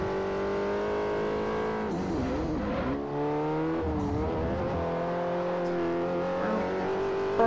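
Race car in Forza Motorsport 4 lapping a circuit, a loud close engine note rising and falling through gear changes and revs, with brief tire squeal.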